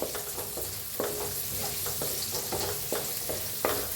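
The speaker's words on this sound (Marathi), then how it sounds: "ह्याच्यातच टाकूया बारीक असा कापलेला कांदा, त्याला बी छान असं भाजून घेऊया।" Finely chopped onion fries in hot oil in a pan for besan methi, a close steady sizzle broken by regular scraping strokes of stirring about every half second, with no one talking.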